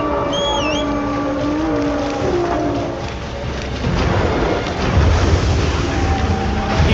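A game monster surges through water, a loud continuous rush and churn of splashing that swells and grows heavier toward the end, with a brief rising tonal cry early on.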